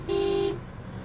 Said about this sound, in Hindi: हारन दो, शायद कोई आ जाए।